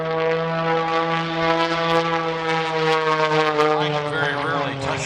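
Michael Wiskus's aerobatic propeller airplane performs at the 2020 New York International Air Show, its engine giving a sustained, loud droning tone that shifts in pitch as the plane maneuvers through the whole stretch.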